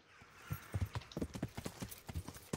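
Horse hooves clip-clopping steadily as a rider travels in Kingdom Come: Deliverance, a close, even rhythm of hoofbeats with a brief whinny-like tone in the background.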